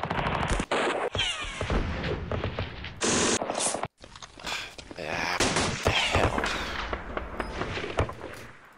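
Gunfire and machine-gun bursts ring out in a World War II strategy video game, loud and dense rattling volleys with sharp cracks in quick succession. A voice speaks over the shooting at times.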